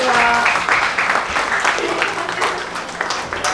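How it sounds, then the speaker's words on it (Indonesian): Classmates clap for one another in a classroom during a practice lesson on preparing a body for burial; a steady patter of clapping fills the short span, with voices talking over it. "tepuk tangan buat teman-teman semua"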